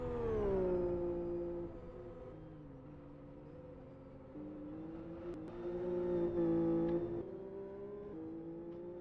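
Race cars lapping in the Live for Speed racing game, a smooth engine whine climbing and dropping through gear shifts, moderately quiet and sustained with no talking.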